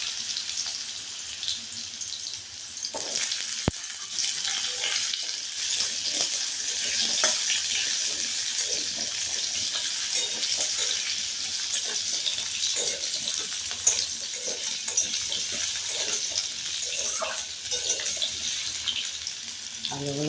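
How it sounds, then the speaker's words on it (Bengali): Potatoes frying in a pan while being turned over for a curry with jackfruit seeds, a steady close hiss of sizzling oil with light scraping stirs and faint clinks running throughout. "আলুগুলো একটু নেড়ে চেড়ে নিলাম"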